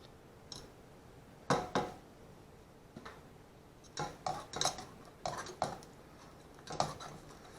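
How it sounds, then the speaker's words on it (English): A whisk works a thick no-bake cheese torte mixture in a pot, giving quiet, irregular metallic clicks and scrapes in short clusters with pauses between them. "I'm going to switch to a whisk again"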